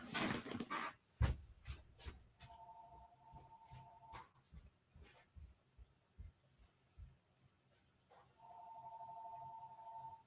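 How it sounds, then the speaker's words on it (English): A telephone rings in two short electronic bursts, separated by a few seconds of quiet clicks and thumps, fairly soft overall. "My phone's ringing."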